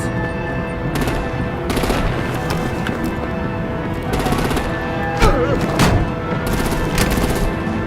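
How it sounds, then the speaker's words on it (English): Gunfire and artillery bursts in the Batman: The Enemy Within video game, with repeated broadband volleys at about 1, 2, 4–4.5, 5.3, 6 and 6.5–7 seconds over a constant busy game mix of music and effects. "Break out the artillery and disable their vehicles!"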